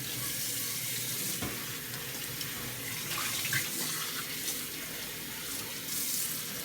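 Tap water runs steadily over juicer parts in a sink during rinsing, a continuous splashing hiss with small bursts as the flow hits the pieces, no speech.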